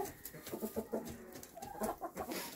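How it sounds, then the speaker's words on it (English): Several roosters clucking and murmuring close by in a coop, with short repeated calls overlapping in an irregular, busy chatter. "Look at my pretty roosters."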